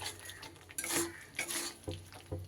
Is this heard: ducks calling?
no